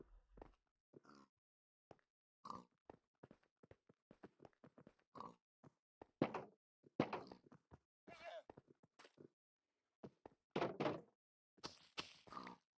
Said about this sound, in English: Pigs are up here